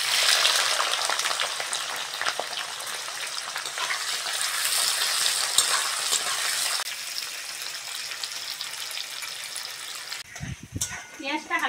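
Chopped onion with cardamom and bay leaf frying in hot oil, a steady, close, dense sizzle that fills the clip and eases slightly partway through, ending in a few brief knocks.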